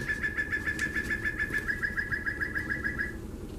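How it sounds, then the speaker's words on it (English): A bird clock chimes the hour with a recorded bird song, a rapid repeated whistling trill that runs for about three seconds at moderate loudness, then stops, with no talking. "There's my bird clock. Oh my gosh, it's that time already."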